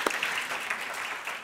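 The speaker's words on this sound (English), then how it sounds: "So big round of applause for ourselves" A conference audience at a tourism industry event applauds itself, a short, fairly soft patter of many hands clapping.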